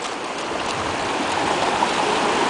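Water at a beach makes a loud, continuous, rushing wash with a slight swell toward the end, close and unbroken, with no voices over it.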